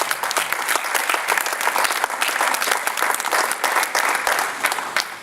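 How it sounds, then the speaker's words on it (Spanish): Vigorous congregational applause in a church service, a close, crackling burst of many hands clapping with distinct individual claps standing out, steady throughout. "Dele fuerte un aplauso al Señor."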